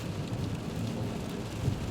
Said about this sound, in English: we're now on a highway in heavy rain.